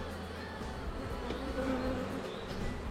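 A seven-day-old honeybee swarm buzzes inside a beehive in a continuous, low, droning hum. The sound is close and even, with no talking over it.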